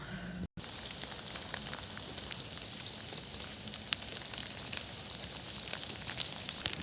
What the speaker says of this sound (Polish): To jest właśnie ten ta zmarzlina, która napieprza z nieba od półtorej godziny.